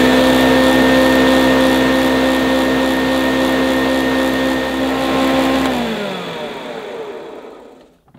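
Hoover U2132 High Power Compact vacuum cleaner running with a loud, steady whine, then switching off and winding down to silence.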